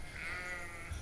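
A sheep gives a single bleat, moderately close, as a flock moves through an opened gate on a farm, over faint background noise.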